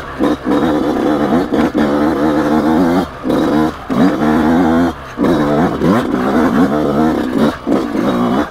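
A 2020 Yamaha YZ125X two-stroke dirt bike engine runs in third gear, a loud, buzzing rasp held near and steady, with brief dips where the throttle eases off before the revs climb again.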